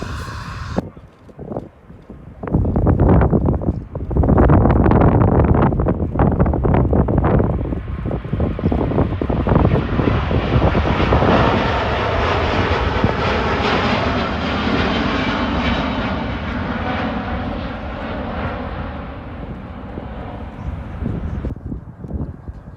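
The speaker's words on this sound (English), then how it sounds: "at the viewing park, we're going to get it on its takeoff roll" An airliner jet on its takeoff roll at Manchester Airport, heard from the viewing park, builds into a loud, sustained engine roar that holds steady before fading, with wind buffeting the microphone at the start.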